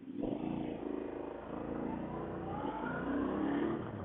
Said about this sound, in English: Even the tone of the engine feels very supermoto.